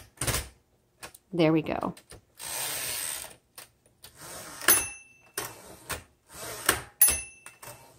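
A manual typewriter's carriage being released and slid while setting the magic margins, heard as ratcheting clicks, a whirring slide and sharp clacks from close by, with a brief spoken remark in between.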